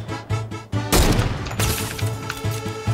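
Gunfire in a video game with a sniper: several sharp shots in quick succession, one loud close blast followed by a dense burst of firing over a steady background hum.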